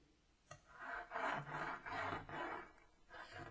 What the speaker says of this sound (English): Now burnish that tape down.